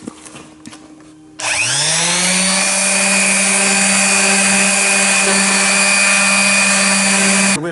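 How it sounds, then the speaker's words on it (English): A power sander sanding a wooden dresser starts up abruptly and runs steadily with a loud, high whine and broad hissing buzz, close by, with no talking. "we're in the second day of sanding and refinishing our beautiful Dixie dresser here"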